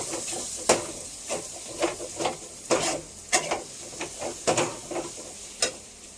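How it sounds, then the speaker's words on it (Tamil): Ingredients sautéing in a pan with a steady sizzle, broken by repeated sharp scrapes and clinks of a spatula stirring at an irregular pace, close and moderately loud, no talking. "நல்லா வதக்கலாம்"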